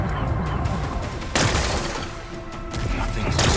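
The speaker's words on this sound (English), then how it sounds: "Gotta blast away some rocks, so I can expose the power cell." Rock-blasting explosions from Horizon Forbidden West, with a loud broadband crash and rumble that bursts in at about 1.3 seconds and swells again near the end over continuous game ambience.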